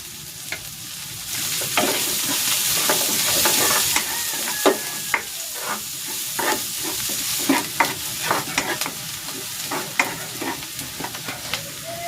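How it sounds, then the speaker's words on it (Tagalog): Garlic and onion sautéing in a pan for pork menudo, a loud steady sizzle with repeated scraping and clacking of a spatula stirring against the pan, the frying hiss easing slightly after the first few seconds. "Magigisa na ako ng bawang. At ng sibuyas."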